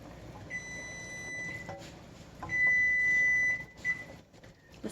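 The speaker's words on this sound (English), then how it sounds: "Timer is just about to go off." Kitchen timer during water bath canning beeping in long electronic tones, one early, then a louder sustained stretch and a short final beep, heard faintly over quiet kitchen background.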